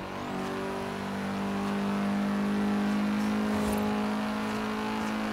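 A car races hard in Forza Horizon 3, its engine droning loud and steady with sustained revving and a brief shift or bump partway through, no voices over it.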